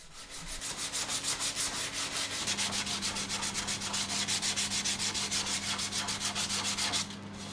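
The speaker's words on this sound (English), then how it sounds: "it just needs a little going over with some 120 grit" 120-grit sandpaper scrubs back and forth in a fast, steady rhythm, close and loud, with a low hum underneath.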